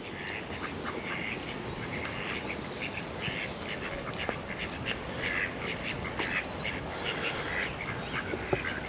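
Ducks quack repeatedly by the water on the Norfolk Broads at Beccles: a steady stream of overlapping calls at moderate distance over constant outdoor background noise.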